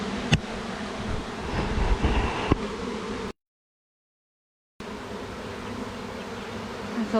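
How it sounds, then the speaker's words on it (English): A swarm of honey bees hums in a dense, continuous buzz close to the microphone, broken by a brief silent gap before the droning resumes. "That's a lot of bees."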